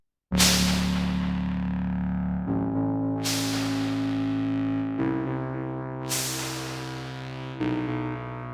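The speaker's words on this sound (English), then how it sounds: "if you add now a bit of echo to it, it sounds great" A distorted Dreadbox Erebus 3 duophonic analog synthesizer plays four sustained notes through an echo effect, each struck sharply and ringing out with echoing repeats, alone without any voices.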